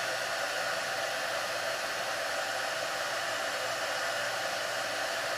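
A heat gun blows steadily to shrink heat-shrink tubing over a power cable's wires, a loud, even rushing hiss of hot air that continues unbroken, close and alone without any talk.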